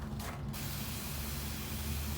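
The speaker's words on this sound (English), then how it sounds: "I like it a lot because of this pumping action. And I'll show you how I spray them down" A short, steady hiss of water spraying from a pump sprayer nozzle onto Vanda orchid roots, preceded by a faint mechanical click, close and continuous.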